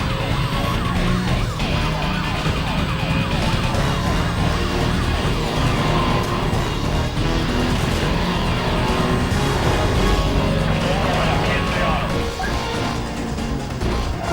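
Police car sirens wail continuously in the video game Need for Speed Most Wanted, loud and layered over a racing car engine, with crashes and impacts throughout a chase.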